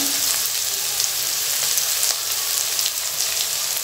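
Onions, green chillies and garlic sautéing in a pan for a Tamil lentil-ball curry, a steady close sizzle with crackling pops, even and continuous throughout.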